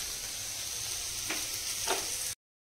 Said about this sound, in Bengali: টমেটো দিয়ে ডাল করব, তাই টমেটোটারে আগে একটুখানি কষিয়ে নিচ্ছি।